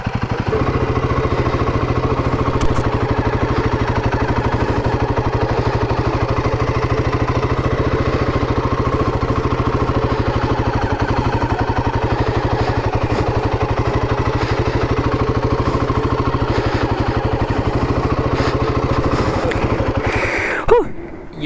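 Royal Enfield Himalayan 450 motorcycle idles steadily on an off-road riding lesson in Wales, a close, even single-cylinder thrum with light mechanical clatter that runs unbroken until a brief blip near the end.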